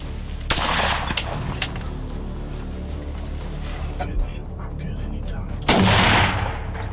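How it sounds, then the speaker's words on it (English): High-powered .30 caliber rifles fire during a feral-animal hunt in South Africa: two loud, sharp shots ring out, one near the start and a heavier blast late, over a steady rumbling outdoor background. "hunters allowed to use the high-powered .30 caliber rifles necessary for successful feral takedowns"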